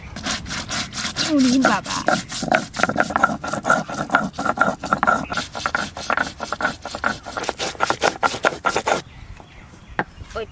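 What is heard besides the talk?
grinding coriander spice on a stone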